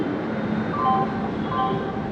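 Simhadri Express passenger train easing its speed near Rajahmundry, a steady rumbling roll with faint high squeals from the wheels and no distinct clatter, heard from inside the coach.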